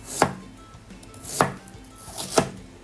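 Onions being chopped small on a cutting board, three sharp knife strikes spaced about a second apart, close and distinct against a quiet background.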